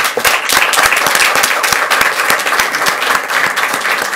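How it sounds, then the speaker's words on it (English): Sustained applause fills a school board meeting, many hands clapping steadily and densely throughout, loud and close, with no talk over it. "Let's give him a round of applause."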